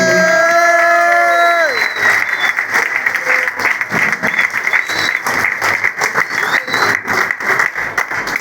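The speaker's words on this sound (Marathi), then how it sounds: "एकदा जोरदार टाळ्या सगळ्या कलाकारांना." A held tone breaks off as a full hall bursts into loud, sustained applause for the cast of a Marathi drama performance, many hands clapping densely with scattered cheers and whoops rising through it.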